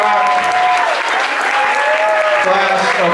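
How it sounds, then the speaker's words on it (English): Audience applause for a School of Rock class at a Queen show senior tribute, a dense steady clapping crowd lasting throughout, with tonal whistles or cheers riding on top. "one last huge round of applause"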